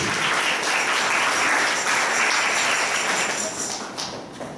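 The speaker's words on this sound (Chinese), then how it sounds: "掌声给他鼓励" A church congregation applauding during a sermon, steady dense clapping from a crowd in a hall, loud and sustained before tapering off at the end.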